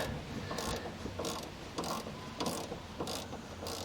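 A ratchet clicks in short bursts while tightening an anti-roll bar link nut on a Mk1 Ford Focus, six or seven close clicking strokes over a steady background hum, with no one speaking.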